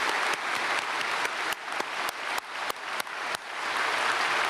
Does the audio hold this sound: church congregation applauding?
yes